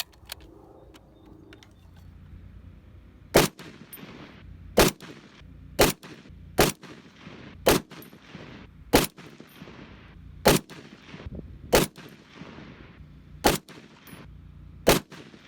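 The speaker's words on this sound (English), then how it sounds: "get some footage of me shooting and just kind of do a quick video on this rifle" FN SCAR-17s rifle fired outdoors on a range at targets past 100 yards: ten loud, sharp single shots spaced one to two seconds apart, each with a short ringing tail, no talking.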